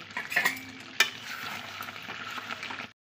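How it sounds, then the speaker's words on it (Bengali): Chicken with fresh coriander leaves is stir-fried in a pan, giving a steady close sizzle with scraping stirring strokes and a sharp clack of the utensil about a third of the way through; no one speaks. "এটা দিয়ে ভালো করে কষিয়ে নেব।"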